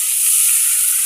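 Food sizzles steadily and loudly in a hot pan as turmeric is stirred in, a dense continuous hiss up close with no pauses.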